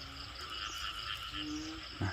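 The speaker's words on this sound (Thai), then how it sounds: "ฟังเสียงอึ้งนะครับ" Banded bullfrogs croaking outdoors around rice fields after rain in a steady chorus, with a louder, deeper croak close by near the end.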